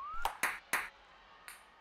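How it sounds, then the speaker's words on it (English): Ping pong ball sounds from the 1-2-Switch video game: a short rising blip, then a few crisp clicking pops in quick succession and one more after a pause, quiet and close. "The ping pong ball making noises."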